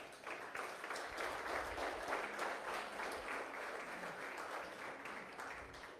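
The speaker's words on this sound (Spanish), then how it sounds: "Dale un aplauso a Jesús." Steady applause from a church congregation during a sermon, a dense sustained clapping that holds at an even level for several seconds with no voices above it.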